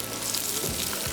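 Onion, capsicum and green chili stir-fry with garlic over high heat, giving a steady close hiss and sizzle with a few soft stirring scrapes.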